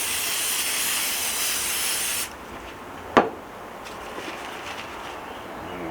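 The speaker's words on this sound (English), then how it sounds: "Hit it with a little bit of cooking spray." A can of cooking spray hisses onto a parchment-lined pan in one continuous burst for about two seconds, then cuts off, followed by a sharp clack and quiet kitchen handling.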